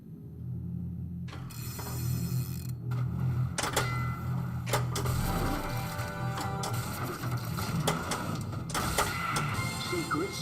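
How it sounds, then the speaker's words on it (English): An old car engine runs in the audio of a JAWS pinball game, a low steady rumble beneath bursts of mechanical clatter, bells and game sound effects, with a voice speaking now and then. "you can definitely hear that old car engine running"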